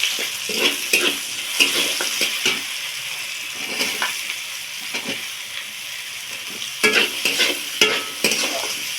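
Chopped onion frying in a pan for a Bengali potol kosha (pointed gourd curry), giving a steady close sizzle with repeated stirring scrapes and clatter throughout; no one speaks.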